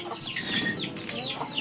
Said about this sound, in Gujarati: ઊભા પીછા વાળા મરઘા